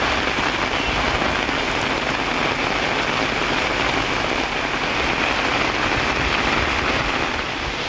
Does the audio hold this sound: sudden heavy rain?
yes